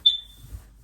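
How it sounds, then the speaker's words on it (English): A single short high-pitched chirp from a smoke alarm in a rental home, sharp and fairly clear, fading quickly into near silence. "got a beeping alarm."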